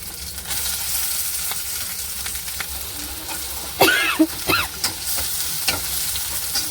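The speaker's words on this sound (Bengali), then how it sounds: "কারি পাতা দেওয়ার পর কড়াতে একটু ফাটে, একটু সরে গিয়ে খুন্তিটা নাড়বেন।" Curry leaves and chopped tomato sizzle in a kadai as a spatula stirs them, a steady frying hiss broken midway by a few louder scraping strokes.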